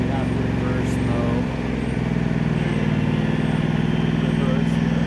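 A John Deere E120 lawn tractor backs up in reverse while mowing, its engine droning steadily and close by, with a faint high whine above the motor.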